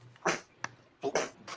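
Sneezing fit in a workshop during a model-building session: a couple of sharp, breathy bursts close to the mic with short gaps between them.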